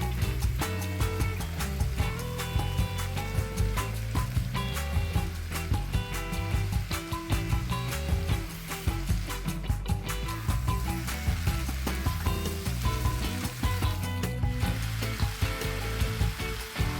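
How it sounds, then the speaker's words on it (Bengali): Potatoes, aubergine and other vegetables frying with bay leaf, dried chilli, salt and turmeric in a wok, a steady loud sizzle with stirring and scraping throughout, no talk. "সামান্য নুন এবং হলুদ দিয়ে আমি খুব ভালোভাবে ভেজে তুলে রাখবো"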